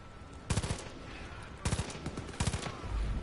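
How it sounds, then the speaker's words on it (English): Automatic gunfire in Far Cry 5 comes in three quick rapid bursts of close, punchy shots against a low game background. "I just have to do headshots until the helmet comes off"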